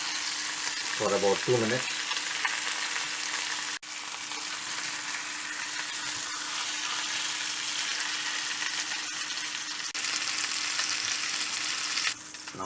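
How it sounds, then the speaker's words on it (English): A Carpetbagger steak stuffed with smoked mussels fries in a pan with a steady, close, crackling sizzle that runs throughout; a voice speaks briefly near the start. "Turn it to the side and slightly let it fry on the sides too"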